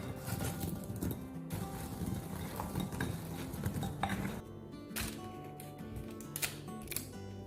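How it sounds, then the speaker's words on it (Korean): A whisk stirs cocoa powder into a sugar glaze for mini donuts, giving a steady metallic scraping and clatter against the bowl with a few sharper clinks, close and fairly quiet. "자, 휘스크를 이용해서 잘 섞어줍니다"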